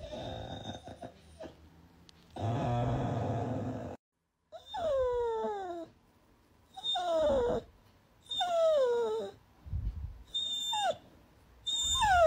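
Labradoodle whining in a series of high, falling whimpers and moans, coming in short bursts with pauses between them, close by and fairly loud, alongside some breathy noise.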